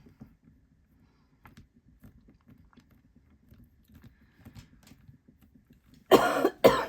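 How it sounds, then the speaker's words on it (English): Quiet soft tapping and rustling while working polymer clay, then two loud, harsh coughs close by at the very end. "Excuse me, I still have a bit of a cough."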